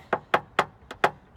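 Paintless dent repair on a Jeep Renegade panel, with a rag stuffed behind to deaden the sound: six sharp, evenly spaced taps knocking down high spots, close and crisp with no talk.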